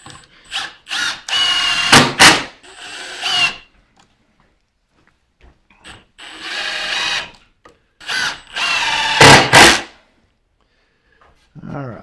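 A power drill drives 3-inch decking screws into wood for a large sawhorse build, with several loud, close bursts of whirring and ratcheting broken by short pauses.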